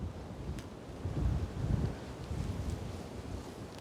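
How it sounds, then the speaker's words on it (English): Steady wind rushing and buffeting across an open microphone on an exposed outcrop on a Scottish isle, low and blustery with gentle surges, no voices. "You brought us to a windy outcrop."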